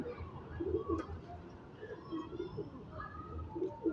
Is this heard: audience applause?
no